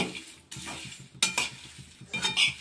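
Prawns frying and stirred in a pan make a soft sizzle. A few sharp metallic scrapes and clinks of the spoon against the pan break through it, close by and with no voices.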